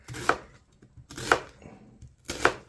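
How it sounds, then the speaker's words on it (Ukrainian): Three distinct knife chops about a second apart, each a sharp board-striking cut as an onion is sliced into large pieces for a hunter-style potato dish, with faint background sounds between. "Цибуля теж ріжеться, все ріжеться великими шматками."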